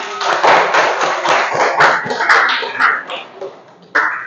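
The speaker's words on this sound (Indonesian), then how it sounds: "Berikan aplaus untuk kelompok 1 ya." Students in an Indonesian classroom applaud a group that has just finished its presentation, a brief burst of close, fairly loud clapping that fades out, followed by one last sharp tap.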